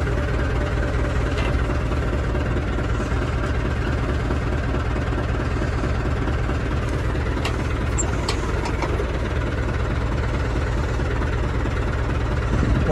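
A tractor engine runs at a steady, heavy idle-like throb while lifting a triple folding roller, a loud continuous low rumble with faint clanks and a metallic squeak partway through.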